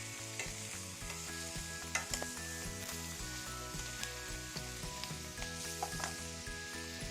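Chicken searing in a hot pan, a continuous close sizzle with repeated clicks and scrapes of stirring or turning, steady throughout with no talking.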